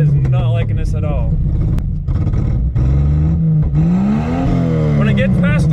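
A car engine running on vodka fuel revs and sputters, rising and falling in pitch near the microphone while someone talks over it.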